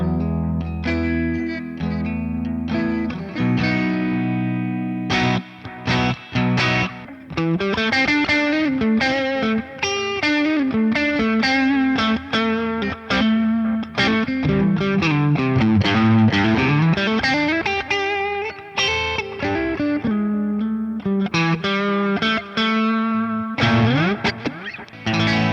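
An electric guitar plays through a Tone City Durple pedal, with a driven, slightly distorted tone, ringing chords and melodic runs continuously and up close.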